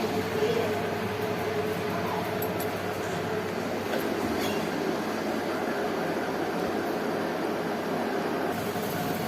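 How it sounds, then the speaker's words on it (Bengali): Water for tea boiling in a pot, heard as a steady, close broadband rush and bubbling hiss that holds at an even level for the whole stretch with no pauses. "ফাইনালি চায়ের জল ফুটে গেছে"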